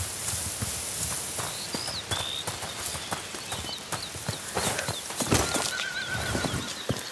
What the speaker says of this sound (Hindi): ओ घोड़े।